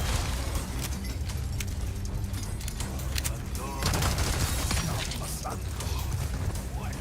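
Dense gunfire from the Resident Evil 4 video game, bursts of rapid shots and mechanical clatter filling the whole stretch loudly, with a voice talking now and then.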